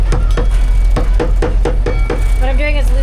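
Close, repeated hammer blows on a boat mid-Atlantic crossing, loosening fibers to pull them through: roughly eight steady knocks in an uneven rhythm, then a short wavering tonal squeak near the end.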